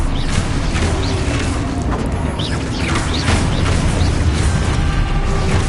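Explosive spell blast in Hogwarts Legacy, a dense, loud, sustained roar of booming bursts and crashing debris, with sharp pops and chirping effects running through it.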